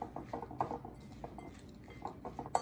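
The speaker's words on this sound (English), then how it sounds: "I'm going to mix in the oats, and I'm going to let them rest with the banana" Spoon clinking and scraping in a bowl while oats are mixed with banana, a quiet irregular series of small clinks and stirring taps close by.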